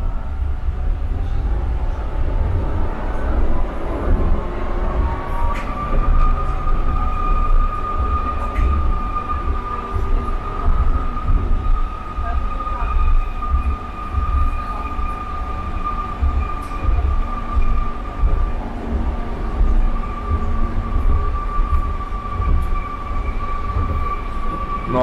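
A tram on line 25 of the Grundmanna tramway rolls smoothly, heard from inside as a steady low rumble with a thin, lingering wheel squeal.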